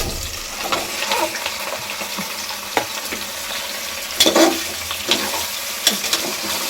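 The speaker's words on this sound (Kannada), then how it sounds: "ಸ್ವಲ್ಪ ಹಸಿ ವಾಸನೆ ಹೋಗೋದಂಗೆ ಎಣ್ಣೆಲ್ಲೇ ಹುರ್ಕೊಂಡೋಣ" Mutton sizzles and fries in hot oil with onions in a pan, a steady crackling hiss broken by a few louder spattering bursts and stirring scrapes, close and alone.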